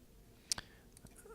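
A computer mouse clicks twice in quick succession, crisp but quiet, with near silence around it.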